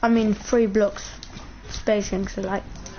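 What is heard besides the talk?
No everyday noises stand out.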